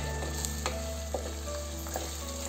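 Mutton trotters fry in spiced masala oil, a dense continuous sizzle with brief stirring scrapes close up and no voices.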